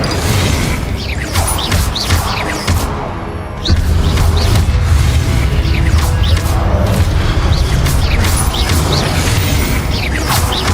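Spell blasts and booming impacts in Hogwarts Legacy combat, loud and continuous with repeated whooshing bursts and crashes over a dense game soundscape.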